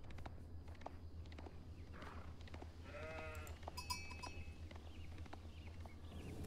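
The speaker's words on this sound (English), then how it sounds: "Might be some sheep here, actually." Sheep bleat a few times in Age of Empires IV over a steady low hum and soft footsteps, with a faint bell-like jingle partway through.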